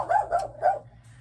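A dog barks three times in quick succession indoors at home, loud and close, with a faint low hum underneath and no talking.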